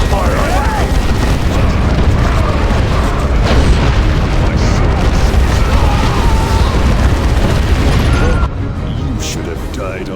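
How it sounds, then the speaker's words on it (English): Booming artillery-strike explosions from the Warhammer 40,000: Dawn of War 2 – Chaos Rising video game form a dense, loud continuous rumble with a mixed game soundscape, then drop somewhat quieter near the end; voices speak over it. "He's calling an artillery strike!"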